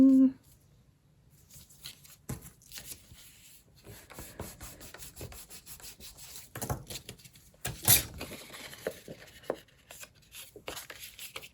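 Paper is folded and creased by hand to make accordion envelope pockets for a junk journal, soft close rubbing and crinkling in scattered strokes, with a voice talking over it.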